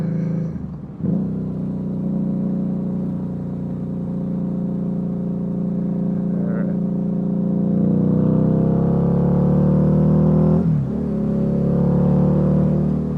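A Harley-Davidson V-Rod motorcycle engine pulls away and accelerates, its deep smooth drone swelling louder through rising gear pitch, with a brief gear-change dip near the end and a short spoken word at the start.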